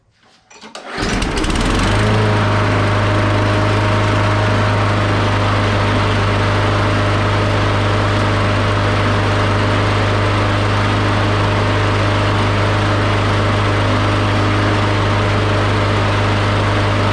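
A Craftsman lawn mower engine with stuck front wheels runs steadily at raised RPM, loud and close, a continuous droning buzz that starts up and holds without letup.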